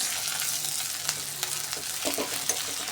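Curry leaves sizzle steadily in hot oil with cumin in a pan, a dense close-up hiss with a few sharper pops and crackles, no voices.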